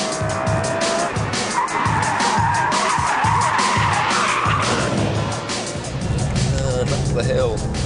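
A BMW M3 CSL in oversteer on a track, its tyres skidding and squealing loudly and continuously over the roaring engine, while someone talks over the noise.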